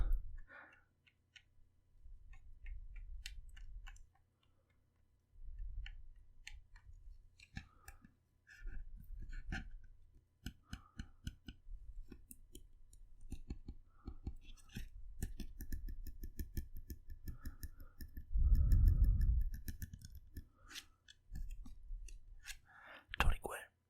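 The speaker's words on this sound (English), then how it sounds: "it looks like I picked up some baseball cards" Baseball cards are handled up close for ASMR, with soft clicks, taps and rustles coming in bursts while a person talks quietly between them.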